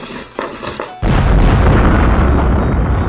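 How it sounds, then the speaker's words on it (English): A loud, sustained explosion booms in the video game Frankenstein: Through the Eyes of the Monster, a sudden roaring blast that follows a few faint knocks and fills the scene with dense rumble. "An explosion throws Philip into a panicked sprint toward the docks."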